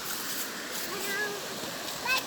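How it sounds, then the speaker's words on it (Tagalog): A river in Bataan flows with a steady, rushing wash of water close by, continuous and moderately loud, with a brief splash near the end. "Ilog lang talaga to."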